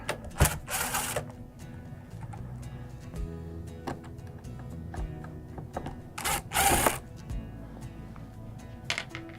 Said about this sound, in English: first we'll take out the screws on the inside here, saving our screws for later